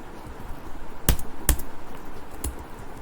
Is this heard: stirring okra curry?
no